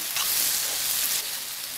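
Onion and tomato sizzling in a pan while being stirred, a steady close hiss of frying that holds without a break.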